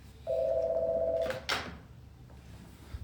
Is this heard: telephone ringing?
yes